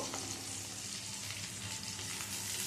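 Spiny gourd frying with potatoes in a pan, a quiet, even sizzle of oil heard close and continuous over a short stretch, with no talking.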